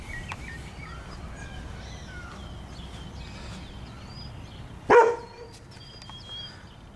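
A dog outdoors beside a house and rock pile gives a single sharp bark partway through, over a quiet background with faint birdsong chirping intermittently.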